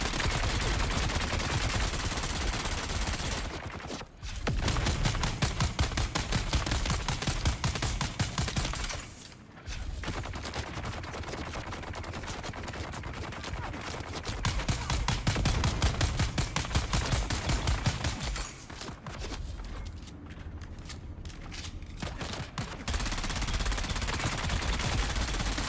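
Rapid sustained Gatling gun bursts from the Dune video game, loud and continuous with a few short pauses between long volleys, dense mechanical rattling throughout.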